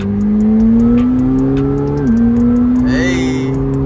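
A supercar accelerating on the road, its engine note climbing steadily in a loud, close drone with a brief dip at a gear change before rising again.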